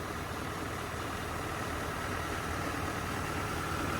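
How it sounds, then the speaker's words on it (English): A tractor engine idles steadily while warming up just after a cold start during canola harvest, a constant low mechanical drone that holds even and moderately close throughout with no talk over it. "Just letting the tractor warm up. I just started it"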